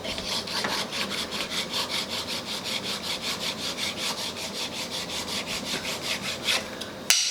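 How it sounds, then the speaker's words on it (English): A plastic scraper rubs back and forth over a filled repair in the gloss finish of a 1979 Thomasville end table, giving a close, steady series of rhythmic scraping strokes with a small knock at the very end. "you take this tool here, which is a plastic scraper"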